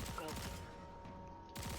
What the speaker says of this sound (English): Can I shoot this with an SMG?